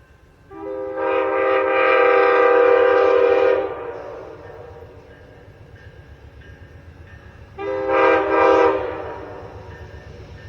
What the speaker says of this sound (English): here comes Amtrak 79 coming through Ashland Southbound